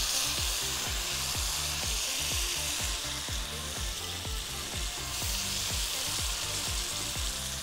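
Tomatoes dropped into a sizzling tempering of mustard seeds and urad dal for kadhamba saadham, a loud, continuous frying hiss with steady rhythmic stirring scrapes all the way through.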